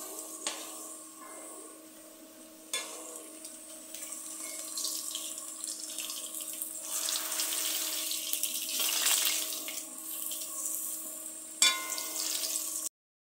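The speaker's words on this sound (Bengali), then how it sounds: "আলু ভাজাটাও হয়ে আসছে" Potatoes frying in oil give a continuous, fairly quiet crackling hiss, with a steady tonal hum running underneath.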